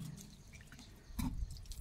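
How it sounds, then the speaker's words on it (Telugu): Hot water being drained off boiled Govinda (Ellelu) tubers, a short burst of splashing and dripping that swells into a louder pour near the end. "సో ఇట్లా వాటర్ అంతా తీసేసుకోవాలి."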